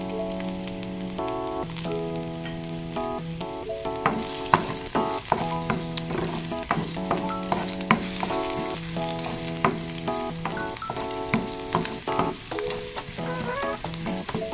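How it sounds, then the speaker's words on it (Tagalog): Garlic sautéing in a pan until browned for monggo with dried shrimp, a continuous crackling sizzle with frequent sharp utensil taps and a sustained tonal hum running beneath. "Tayin natin ang bawang hanggang sa mag-brown siya para mabango"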